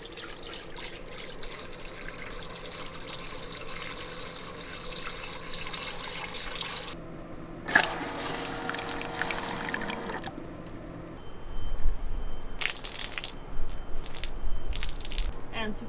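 Plumbing antifreeze runs through a boat's bilge plumbing while the boat is winterized after haul-out, giving a steady close rushing flow that breaks off, surges briefly, then returns in short irregular spurts.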